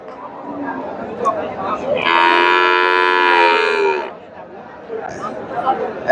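A Sahiwal cow moos once in a long, loud, sustained call lasting about two seconds at a Chandaikona cattle market in Sirajganj, over a busy background of crowd chatter and voices.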